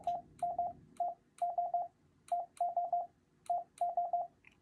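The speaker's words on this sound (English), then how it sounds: "Morse code is ES." Morse code tones sending the letters ES repeat in short bursts of evenly pitched beeps, each group opening with a single short tone and then a quick run of dits, loud and alone.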